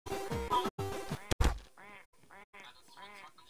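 A duck quacks in a short run of distinct, nasal calls spaced close together, following a few seconds of people talking at the start.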